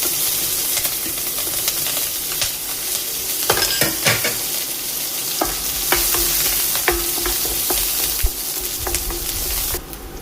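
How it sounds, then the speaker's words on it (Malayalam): Green chilies fry in hot coconut oil over mustard seeds, giving a steady close sizzle with occasional stirring clinks and pops throughout. "മുളക് ഒന്ന് മൂത്ത് വന്നിട്ടുണ്ട്."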